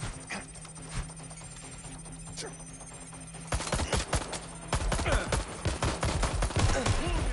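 Rapid gunfire from a PS5 video game shootout, bursts of shots growing louder and denser in the second half, with voices heard faintly in the mix.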